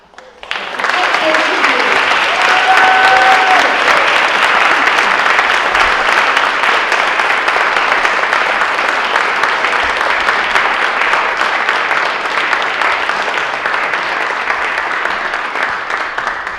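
Sustained applause from an audience at the 2014 WIN-TV Ollie Awards ceremony, dense and steady clapping filling the room for the whole stretch and tapering only slightly toward the end.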